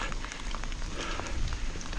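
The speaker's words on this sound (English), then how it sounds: "it's still raining" Rain falls steadily outdoors during a bikepacking ride along the Marcher Castles Way, a soft, continuous patter of drops with no voices.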